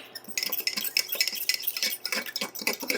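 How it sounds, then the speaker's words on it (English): A fork whisks a slurry of cornstarch and water in a bowl, making quick, close scraping and tapping strokes in a brisk, steady rhythm for a few seconds. "And then we're going to whisk that together with a fork."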